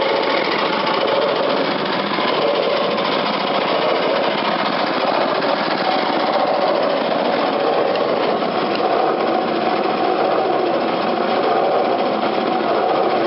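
A newer snow blower engine idles at its lowest speed, a steady, even mechanical drone that holds unchanged for about thirteen seconds, close and loud with no talking.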